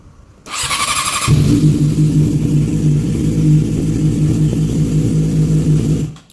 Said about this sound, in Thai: ตอนนี้รถติดแล้วนะครับ